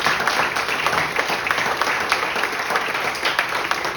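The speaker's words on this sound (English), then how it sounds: "Please a round of applause to them." Moderately quiet applause from the audience at a home maintenance talk as the presenter's team is acknowledged, with continuous clapping and scattered sharper claps throughout the few seconds.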